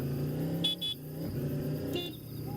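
Car horn honking in the video game Dude Theft Wars, two short bursts near the start and another near the end over a steady droning engine and game background.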